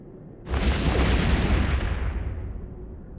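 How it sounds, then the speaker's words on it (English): A 720mm howitzer artillery turret in the EVE Online space game fires one heavy, loud blast with a sudden attack, followed by a long rumbling tail that slowly fades out. "This is the 720mm howitzer artillery."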